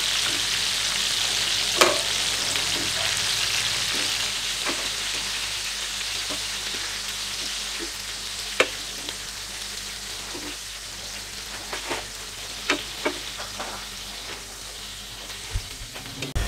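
Fish frying in hot oil sizzles steadily as the pieces are lifted out onto a strainer, with scattered clinks and taps of the utensils over the constant hiss and no talking.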